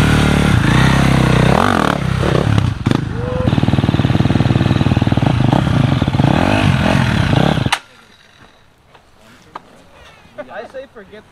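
An enduro motorcycle engine revs loudly up close for several seconds, rising and falling in pitch with a rattling clatter, then cuts off abruptly, leaving quiet rustling and faint voices.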